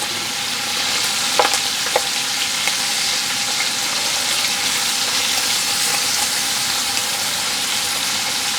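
Onion sizzles and fries steadily in a hot pan for Romanian sweet cabbage with smoked meat. A loud, continuous hiss fills the scene, with a couple of faint scrapes from stirring.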